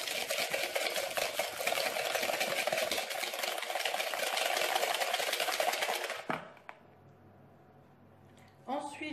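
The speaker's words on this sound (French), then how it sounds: "je vais bien fouetter afin que ma préparation blanchisse" Egg yolks whisked briskly with caster sugar in a bowl, a rapid, continuous scraping patter for about six seconds that stops abruptly, followed by quieter handling noises.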